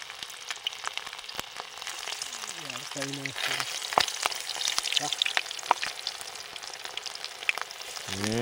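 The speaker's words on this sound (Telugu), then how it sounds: "మనం తెచ్చిన చికెన్ ముక్కలు ఒక్కటి నీట్గా నూనెలో వేసేసాడు" Chicken pieces for pakoda fry in hot oil outdoors at a night campsite among paddy fields, making a continuous crackling sizzle with scattered sharp pops. Brief voices break in a couple of times over the frying.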